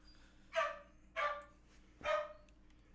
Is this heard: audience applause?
no